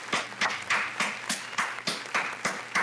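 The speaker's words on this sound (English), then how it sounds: "the crowd's going crazy" Short bursts of crowd clapping and cheering play as a sound effect, rhythmic swells of applause arriving in quick regular pulses, fairly loud and alone.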